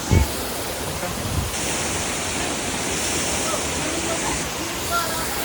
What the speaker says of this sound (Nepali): हामी चाहिँ जलपरी झरनामा आइसक्यौँ